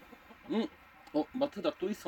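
A farmyard chicken clucks in a few short, throaty bursts, close and fairly clear, with brief pauses between calls.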